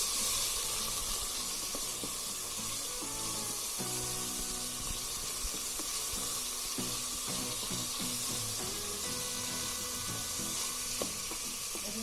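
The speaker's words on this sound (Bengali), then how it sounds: "সবজিগুলো ভাজছি।" Parboiled vegetables fry in a rice cooker for veg fried rice, giving a steady close sizzle and hiss with occasional light stirring clinks throughout.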